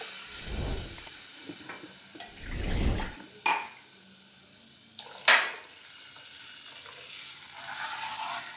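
A blended mixture is poured into Khandesh-style kadhi in a pan, heard as soft liquid splashes and pouring, with a few sharp clinks of a utensil against the pan and a low simmering hiss in between.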